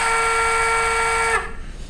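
A model train sound system plays a C&O flat top single chime whistle: one steady, loud, tonal blast held for over a second, then cut off abruptly, leaving faint room noise.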